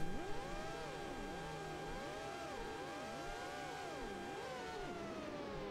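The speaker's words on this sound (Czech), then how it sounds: "Slyším motor?" Car engine in the Monaco Grand Prix racing game on Dreamcast, a thin buzzy whine that swoops up and down in pitch with repeated revving, steady and continuous throughout.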